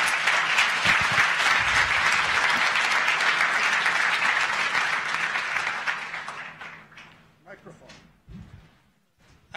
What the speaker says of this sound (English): So please give an applause to Jorge Nocedal.